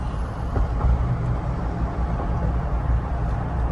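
A pickup truck drives through St. Petersburg, Florida after Hurricane Helene, giving a steady loud engine and road rumble with a hissing air-brake release, no talk over it.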